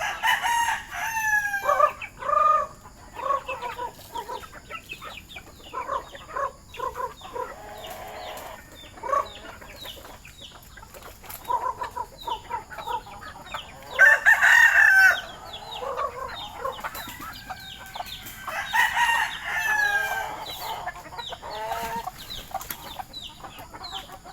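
Chickens cluck and squawk continuously nearby at feeding time, with a rooster crowing loudly partway through amid scattered bursts of flock chatter.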